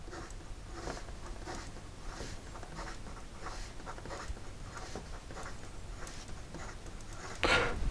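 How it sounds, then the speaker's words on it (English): A Wancher Kiei Urushi fountain pen with a broad nib writes quickly on paper, giving faint, close scratchy strokes in a quick, irregular rhythm with no talking, and one louder rustle comes near the end. "And then in regard to some fast writing"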